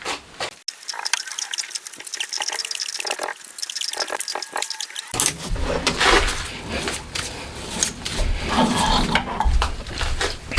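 Thread cutting, M14 x 1.0, on the main shaft of a homemade 125cc four-cylinder 16-valve engine: light scraping and rasping at first, then a louder, continuous grinding machining noise from midway on, with no talk.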